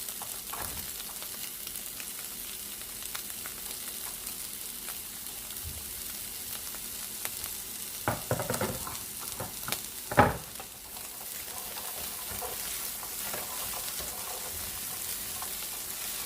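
Carrots stir-fried on high heat with turmeric for Ghana egg fried rice make a faint, steady sizzle, with a cluster of louder stirring scrapes and clatters about halfway through.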